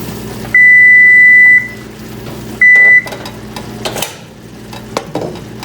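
A kitchen timer gives two loud electronic beeps, one long and one short, while a pot of pomegranate jelly cooks on the burner, followed by soft kitchen clatter.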